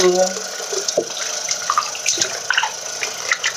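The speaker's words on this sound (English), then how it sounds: "pour warm water" Warm water is poured, splashing and trickling in short uneven bursts, close by, with small drips and clinks over a quiet background.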